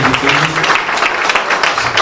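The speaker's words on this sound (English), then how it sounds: "Standing ovation, please." Audience applause and a standing ovation at a formal courtesy visit event, a dense, steady wash of clapping filling two seconds, with faint voices mixed into the din.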